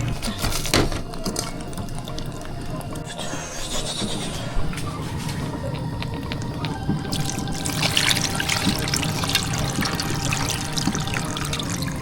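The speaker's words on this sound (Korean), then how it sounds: "물 넣어가지고 찜기로 삶아서 먹겠습니다" Water runs and trickles into a steamer pot for cooking crabs, a steady filling sound with a brief splashy burst, heard alone at moderate level.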